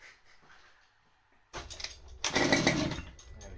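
A stock car engine, out of the vehicle, cranks and catches after a quiet moment. It bursts into a loud, rough, close running roar.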